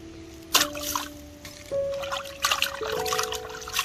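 Raw chicken is washed in water, with splashes, pours and dribbles coming in irregular bursts up close. A faint steady tone hums beneath the watery sounds.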